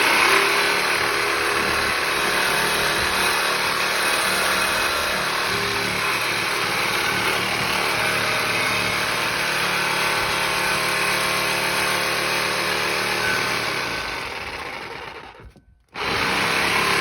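An angle grinder cuts at a stuck bolt on a Toyota 4Runner during a shock and strut job, a loud, continuous high whine that holds steady for about fifteen seconds, dips briefly, then starts again.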